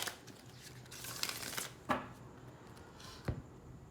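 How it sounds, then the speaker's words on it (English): A deck of oracle cards is shuffled close up with soft riffling and a few sharper taps as the cards are squared, quiet and with no speech. "I'm going to shuffle."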